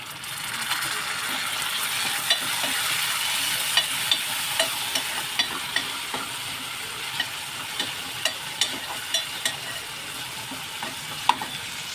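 Onion and tomato frying in oil for a dry prawn curry, a steady close sizzle with a run of sharp regular clicks from a spatula scraping the pan through the second half.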